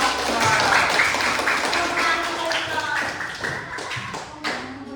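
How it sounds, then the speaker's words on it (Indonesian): A group of children claps hands together in quick bursts in a classroom, lively and close, with voices calling out in Indonesian and mixed in among the claps. "Kompak, tepuk tangan dulu"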